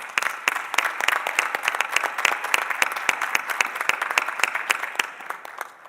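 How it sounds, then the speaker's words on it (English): An audience at a school board meeting gives a round of applause, many crisp individual claps layered into a steady crowd clapping that holds evenly before tapering at the end. "let's have a round of applause for all of us"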